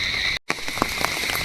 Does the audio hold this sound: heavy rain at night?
yes